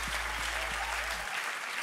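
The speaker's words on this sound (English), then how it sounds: "Can we just give the worship band a round of applause?" A church congregation applauds the worship band in a sustained, dense wash of clapping from a large crowd indoors, loud and steady throughout, with a low hum underneath that cuts out partway through.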